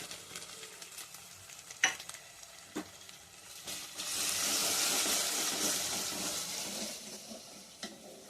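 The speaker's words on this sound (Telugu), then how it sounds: "పచ్చి వాసన పోయేదాకా వేయించుకుందామండి. ధనియాల పొడి 2 స్పూన్లు అండి. గరం మసాలా 2 స్పూన్లు." Coriander powder and garam masala fry in a pan for a mutton curry with ivy gourd, giving a soft, steady sizzle that rises midway, with a few sharp stirring scrapes and clinks and no talking.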